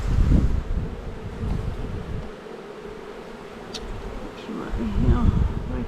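Honey bees swarm over an opened hive during a beekeeping inspection, a dense continuous buzz close to the microphone that swells, dips midway, then rises again, with some wind noise.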